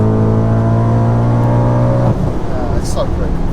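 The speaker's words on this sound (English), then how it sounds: "Let's accelerate at the back end of that, man." A supercharged 629bhp Audi RS4 holds a loud, steady engine drone through a long corner, then the tone breaks into a rougher, noisier roar as it pulls hard out of the bend, with voices over it.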